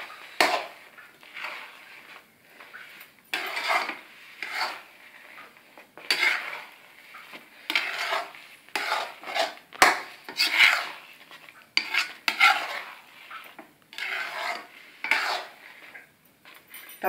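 Semolina halwa with ghee being stirred in a pan, a metal spoon scraping and clinking against the pan in quick irregular strokes, close and fairly loud, with no talking.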